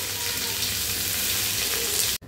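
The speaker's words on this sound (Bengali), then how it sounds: "তেল দেখো আমার ভালো মতো গরম হয়ে গিয়েছে, এবারে আমি যে একটু হালকা বাটা গরম মশলাটা এখানে দিয়ে দেবো।" Ground spice paste for a carp fish curry sizzles loudly and continuously in hot oil, a dense crackling hiss that cuts off abruptly near the end.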